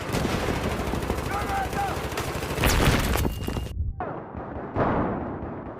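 Relentless gunfire and grenade blasts fill the Paris metro map in the Battlefield video game, with dense rapid automatic bursts and booming explosions layered continuously and loudly throughout.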